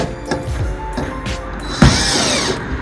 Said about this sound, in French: j'effectue mon serrage des 4 vis